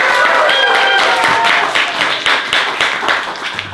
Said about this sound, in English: Can we get a massive round of applause for all of our open micers?